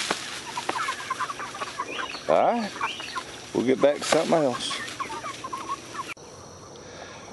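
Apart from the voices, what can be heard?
chickens clucking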